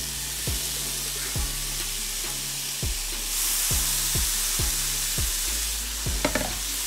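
Shrimp sizzle in a hot pan with vegetables for a curry shrimp and pumpkin dish, with a steady frying hiss and roughly eight sharp utensil knocks against the pan at uneven intervals. No one speaks.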